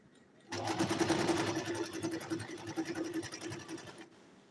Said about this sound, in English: So as I'm sewing, I'm checking it.